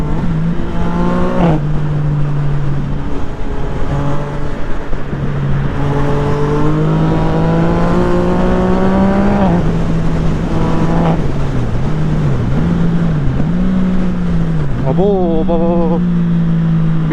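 A Yamaha MT-09 SP motorcycle fitted with a Tiger exhaust accelerates hard through several gears, its loud engine note climbing and dropping with quick-shifter changes, throttle cuts and pops, close and continuous, with a rider's voice faintly mixed in.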